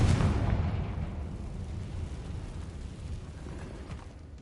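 A Confringo fire spell explodes in the Hogwarts Legacy game, a loud rumbling blast at onset that rolls off into a long, fading low roar with no talking.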